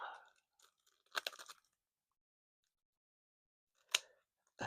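Scissors cut a dog's body coat during grooming, making two brief, crisp snipping bursts separated by quiet, close and faint.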